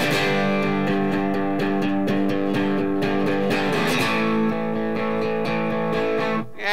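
Guitar strumming the second chorus of a song, with steady rhythmic chords and a bright, slightly driven tone, loud and close, stopping abruptly near the end.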